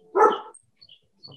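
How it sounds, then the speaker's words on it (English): Dogs bark in the distance, one short clear bark followed by a couple of faint, softer yips, in an otherwise quiet setting. "And there are the dogs."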